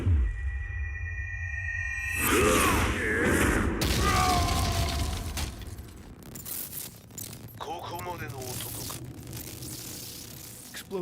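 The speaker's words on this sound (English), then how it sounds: "Explosion confirmed at the Mishima Dojo." A heavy explosion at the Mishima Dojo in a Tekken 7 cutscene bursts in loudly after a moment of electronic tones, followed by rumbling debris and scattered mechanical and crackling effects.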